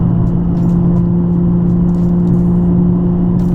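A steady, loud low exhaust drone hums continuously inside a Nissan 350Z with muffler deleted, in fourth gear at 3,500 RPM, a constant tone with light rattles and clicks on top.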